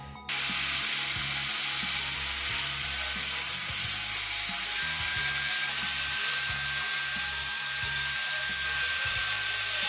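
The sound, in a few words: belt sander with new 80 grit belt sharpening guitar sword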